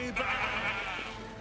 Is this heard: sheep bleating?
yes